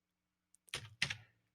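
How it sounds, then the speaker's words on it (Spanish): A few keys pressed on a computer keyboard while entering numbers, two or three close, crisp clicks and thumps in quick succession in an otherwise quiet room. "escribo 14 en el teclado y confirmo con Enter"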